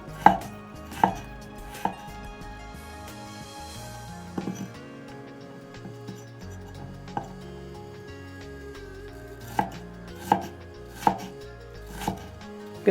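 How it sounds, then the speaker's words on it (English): A knife roughly chops ginger slices on a board in a series of sharp, separate strikes, some quick and some spread out, close and clear with no talking. "we're going to give these a rough chop"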